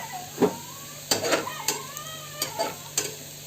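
Onions sauté in a pan for soya biryani, a soft sizzle under repeated stirring scrapes and clinks of a spoon against the pan, close and fairly quiet.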